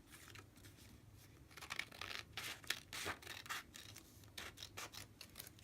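Folded paper cut with scissors gives a series of soft, close snips and rustling crunches in uneven bursts, quiet overall, with no talking.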